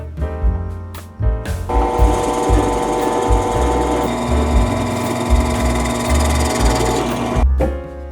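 A power drill boring a hole in wood whirs steadily for several seconds, its motor droning loud and close with a brief stop and restart near the start.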